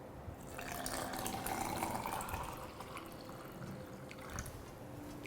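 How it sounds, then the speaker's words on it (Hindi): Water pours steadily into a glass for a jaljeera masala soda with fresh lemon, a continuous close splashing trickle lasting several seconds with no talk over it. "हम डालेंगे पानी।"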